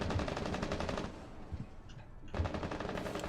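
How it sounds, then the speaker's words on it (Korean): Automatic gunfire in Rainbow Six Siege, two loud rapid bursts split by a short pause, the second starting after a brief lull of quieter game ambience. "이 총소리는 누구지? 이 총소리 뭐야?"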